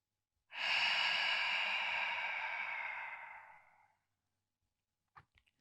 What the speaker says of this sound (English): deep breath in, belly expands